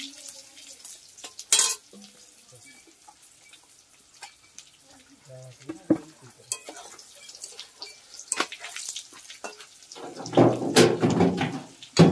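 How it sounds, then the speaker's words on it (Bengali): Fish roe fritters fry in a pan with scattered stirring clinks and drips, then a loud sizzling burst rises near the end, close and clear. "এই যে মাছের ডিমের বড়া ভাজা"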